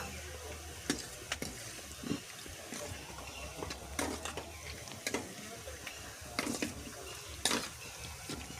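Meat being mixed with oil and spices in a pan gives a soft continuous sizzle, with repeated scraping and knocking strokes of a utensil against the pan at an uneven rhythm, fairly quiet and close.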